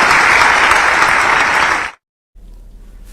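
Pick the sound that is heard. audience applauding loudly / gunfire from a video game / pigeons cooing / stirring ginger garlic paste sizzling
audience applauding loudly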